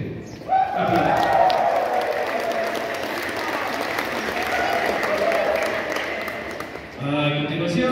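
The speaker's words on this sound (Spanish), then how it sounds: "Aplausos." At an intercultural Mixtec congress, the audience gives a sustained round of applause for the council president, a full and even roar of clapping that gives way to a voice near the end.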